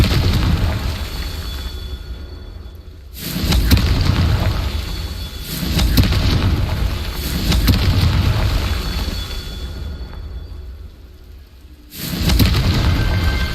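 Confringo fire spell blasts in Hogwarts Legacy, four heavy booming explosions with sharp broadband onsets at irregular intervals, each followed by a long rumbling decay over a dark ambient bed.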